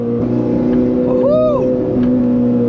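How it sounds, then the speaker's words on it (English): A supercar with a Capristo V8 exhaust blips and revs hard during a downshift, the engine note swooping up and back down over a steady drone on a quiet road, loud and close. "Capristo V8, perfect way to wake everyone else up as well"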